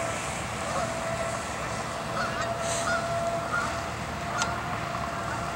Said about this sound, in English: Oh, there goes some more. Try to catch them taking off.